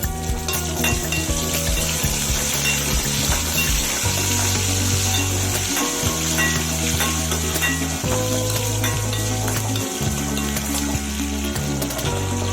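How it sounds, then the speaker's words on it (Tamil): Curry leaves sautéing in hot oil, a loud, dense crackling sizzle close up, with rhythmic scraping strokes of a spatula through the pan. "கருவேப்பிலையும் சேர்த்து வதக்கிக்கிங்க"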